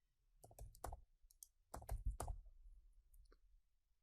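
Typing a password on a computer keyboard: a few soft, close clusters of key clicks with short gaps between them, fairly quiet.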